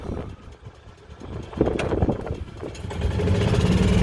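2015 gas-powered EZGO TXT golf cart pulling away, its small engine rumbling and rising to a steady, louder drone as it takes off.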